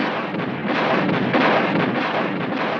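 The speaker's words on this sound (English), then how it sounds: "for a while kept them at bay with our cannon" Cannon fire as a sound effect, a dense rumbling barrage of booms rolling on continuously and loudly, with no voice over it.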